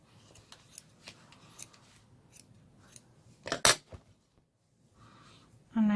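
Scissors snip through a doll's hair in a few crisp, close cuts, the loudest pair near the end of a quiet stretch, before a louder sound cuts in.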